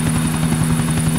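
Helicopter in Grand Theft Auto IV, a loud, close, steady rotor thump with a droning engine hum, heard alone with no talking.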